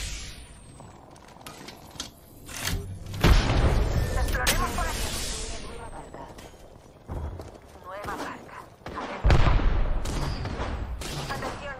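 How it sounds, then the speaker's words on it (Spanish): Apex Legends gameplay gunfire: loud, sharp bursts of shots and heavy booms crack through layered game effects, arriving in clusters across the stretch. "Me están disparando."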